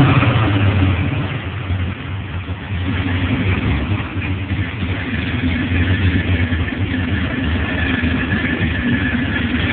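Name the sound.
2007 Mustang Shelby GT engine revving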